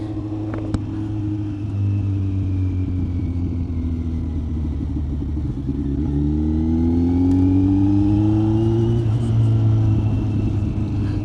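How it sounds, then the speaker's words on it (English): A Kawasaki Z900 inline-four with a Leo Vince GP Corsa slip-on exhaust idles with a steady deep burble, then revs up several times in rising, rumbling sweeps, loud and close with no talk. "This is just a slip-on exhaust. Very pleased with the sound."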